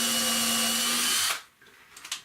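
A power drill pre-drills into a wooden wall of an off-grid tiny house, a loud steady whine for just over a second, then stopping abruptly with a faint tap or two afterward.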